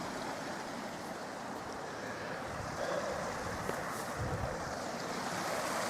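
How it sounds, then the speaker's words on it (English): A clean, icy-cold stream on Cader Berwyn flows in a steady, broad rush nearby, with wind buffeting the microphone at times. "Lovely clean water, that stream there."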